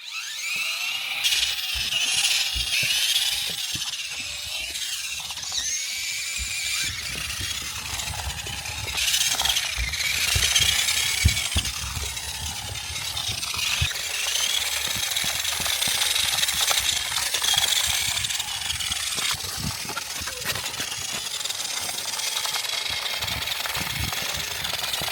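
A Carrera 1:18 Yoshi Pipe Kart radio-control car drives indoors, its small electric motor whining and buzzing in rising and falling bursts with clattering wheels, close and fairly loud, without speech.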